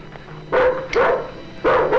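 A dog barks three times close by, short sharp woofs spaced irregularly with brief pauses between.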